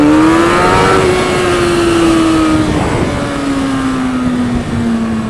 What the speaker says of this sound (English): enough of a throttle blip